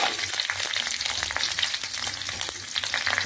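Vegetables such as carrot hitting a hot pan with ground ginger for chicken capcay, giving a loud, steady, dense sizzle and crackle with faint stirring scrapes throughout, and no voices.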